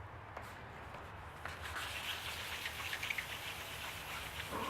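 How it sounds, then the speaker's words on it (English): Sandpaper rubs over a surfboard ding repair in a steady, close scratching hiss that grows a little louder and busier partway through, with no talking. "you can even hear the difference in the sandpaper as the surface smooths out"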